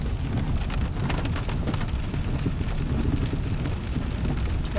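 Steady heavy rain pours down continuously in Alaska, a dense hiss of drops spattering on surfaces with a low rumble underneath, close and unbroken throughout.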